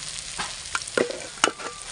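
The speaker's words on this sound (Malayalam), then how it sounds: "നമുക്ക് ഇതിനകത്തോട്ട് ചിക്കൻ ഇട്ട് വേവിക്കാം" Chicken pieces being stirred into sautéed onions in a pan for a roasted-coconut chicken curry, with scraping stirs and soft sizzling in short bursts, close and moderately loud, no talking.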